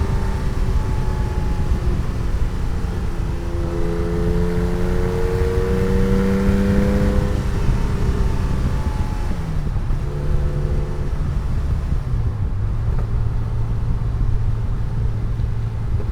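A 1987 Porsche 911 Carrera 3.2 on the move, its engine and exhaust droning steadily with rising and falling pitch as it accelerates and shifts through gears, set against continuous road and wind noise.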